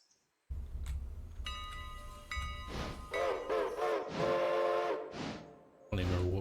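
A train whistle in the game Railroader sounds in several tonal blasts over a rumbling engine, with ringing, bell-like tones and chugging rising and falling around it.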